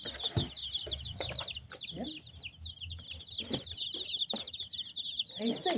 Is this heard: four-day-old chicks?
yes